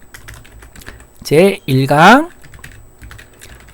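Typing on a computer keyboard while entering text in an Excel spreadsheet, soft clicks running under a nearby voice that speaks briefly in the middle.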